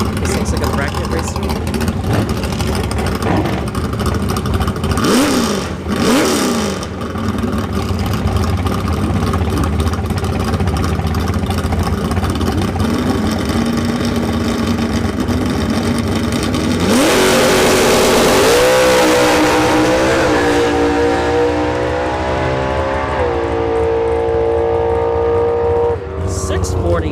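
A rowdy third-generation Camaro makes a drag strip pass during a bracket-style test-and-tune session, its engine roaring loud and close with rising revs through the gears over a steady crowd and track din, then fading as it pulls away.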